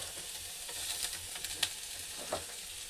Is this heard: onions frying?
yes